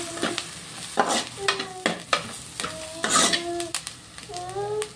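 Onions sizzle in a pan as chopped coriander is stirred in, with a spoon scraping and clinking against the metal in uneven strokes, close up over a constant fry and no talk.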